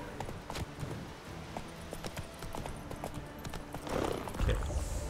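Horse hooves clip-clopping at a steady trot in The Witcher 3, a rhythmic run of light thuds under faint game ambience, growing briefly louder near the end.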